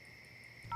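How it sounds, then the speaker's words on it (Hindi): Telephone keypad tones as a number is dialed, a short steady electronic tone ending in a louder burst, fairly faint and with no one speaking. "तुम चिंटू को फोन लगाओ।"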